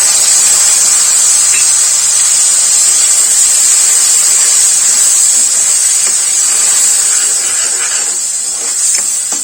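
Tomato puree hits a hot pan already seasoned with turmeric for sprouted moth bean curry, a loud, steady sizzling hiss that fades only slightly near the end, with no talking.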